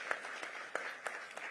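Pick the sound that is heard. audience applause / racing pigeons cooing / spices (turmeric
audience applause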